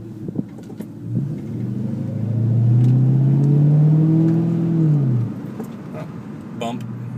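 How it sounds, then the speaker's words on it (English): Exhaust of a 2002 Ford Mustang GT heard from inside the car while driving, a low engine drone that swells as it accelerates mid-clip and then drops off, with faint interior rattles around it. "so you can kind of hear the exhaust"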